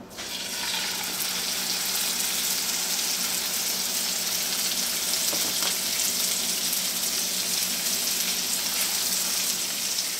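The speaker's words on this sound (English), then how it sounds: "We're going to start by frying these chicken breasts in batches." Thin pounded chicken breasts frying in canola oil in a pan, a continuous loud crackling sizzle that stays constant for about ten seconds, close by, with no voices.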